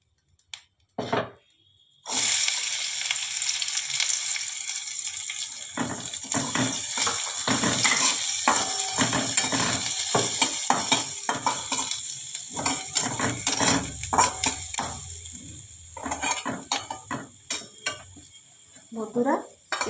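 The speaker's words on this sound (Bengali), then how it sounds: "বন্ধুরা, একটু তেল দিলাম, পেঁয়াজটা ভাজবো।" Chopped onion frying in oil in a pan sets off a steady, close crackle and sizzle with scattered stirring scrapes, starting after a brief near-silent opening and running for most of the clip with no voices.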